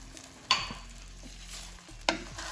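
Cashew paste and fresh cream being mixed into a navratan korma on a low flame make a soft, quiet simmer, with two distinct scraping knocks of a spoon against the pan.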